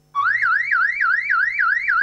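An electronic security alarm in a Spanish-language advertisement for home and business monitoring wails loud and close, its pitch sweeping up and down in a steady rapid warble with no voices over it.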